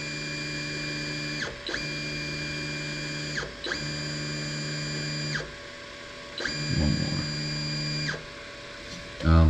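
An Anycubic Mega S 3D printer raises its print height with a steady whining stepper-motor hum in several long runs broken by short pauses, with some faint handling noise near the end.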